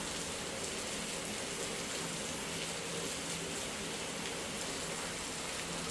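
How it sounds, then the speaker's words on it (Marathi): Steady rain falls evenly and fairly loud, a dense unbroken patter with no talk heard over it. "आता मस्त पाऊस पडतो बघा."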